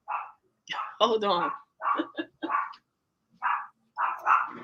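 A pet dog indoors gives several short barks and yips in quick bursts with brief pauses, loud and close; a person briefly speaks between them.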